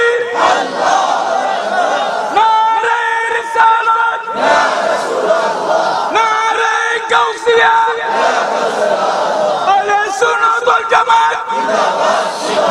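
A large congregation roars back in answer to the Nara-e-Takbir call, loud massed voices chanting in repeated waves, each burst swelling and breaking off before the next.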